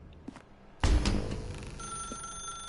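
A telephone in The Stanley Parable game starts ringing after a quiet moment, its bell trilling loudly and continuing with a sustained electronic ring.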